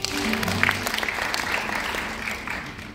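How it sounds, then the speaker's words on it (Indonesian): Church congregation applauding, a steady wash of clapping from a crowd that holds for the full stretch, fairly loud and close with a few faint voices underneath. "Beri tepuk tangan buat Tuhan."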